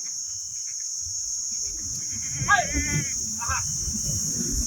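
Kathiawari goats bleating at a livestock seller's farm, a couple of short wavering calls over a steady high insect drone and low murmuring voices nearby.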